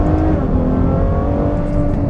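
A Ferrari F12 Berlinetta sports car accelerates hard, its V12 engine roaring loud and close with a steady, dense engine note that holds throughout, and no talking.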